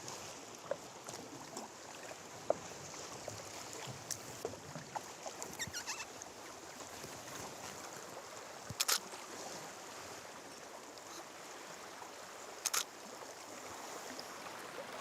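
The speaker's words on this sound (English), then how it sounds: "out paddling on Golden Bay in the early light of dawn" Paddles dip and pull through calm water on Golden Bay, New Zealand, at dawn, with faint lapping and a few soft splashes and knocks in a quiet open setting.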